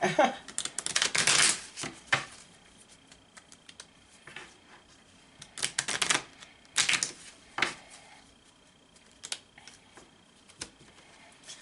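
A deck of cards riffle-shuffled several times, with quick fluttering bursts separated by pauses and lighter taps and handling between them, close and fairly quiet.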